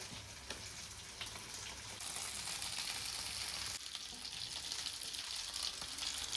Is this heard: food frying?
yes